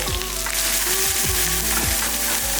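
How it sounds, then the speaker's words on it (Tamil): Finely chopped small shallots sautéing on a slow flame in oil with Kashmiri chilli powder, a dense continuous sizzle with occasional spatters, loud and close. "இந்த எண்ணெயிலையும் நல்லா வதக்கிடலாம் பாருங்கள் ஸ்லோ ஃப்ளேமில் வச்சுட்டு பண்ணுங்கள்"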